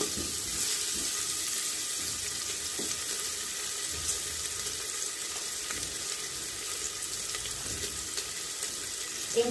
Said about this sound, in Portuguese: Aí agora vamos tostar legal esse bacon aqui